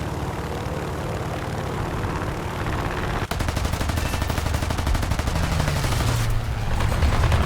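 Martlet Mk IV fighter guns fire in War Thunder as a dense, rapid machine-gun rattle over a steady aircraft engine drone, loud and continuous after a sharp onset, with the engine pitch dropping near the end.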